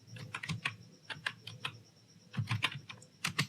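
Irregular bursts of keystrokes on a computer keyboard, tapping in quick clusters with short pauses between, fairly close and moderately quiet with no voices.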